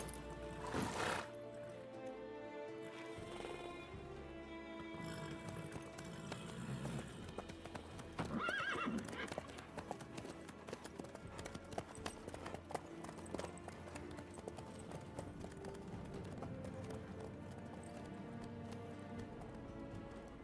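Horse hooves clip-clopping in The Witcher 3, a steady run of hoof strikes on the ground with a whinny near the start, mixed with ambient game sound and occasional faint voices.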